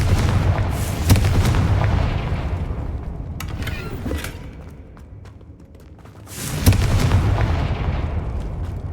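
Confringo fire spell blasting in Hogwarts Legacy, loud booming fiery explosions with a rumbling tail that fades, then a second heavy blast erupts near the end.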